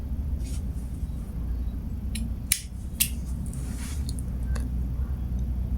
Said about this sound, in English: you cut your yarn